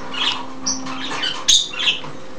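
Young pet budgies give short, high chirps and squeaky calls while eating corn, a few scattered bursts close by over a faint steady hum, with no talking.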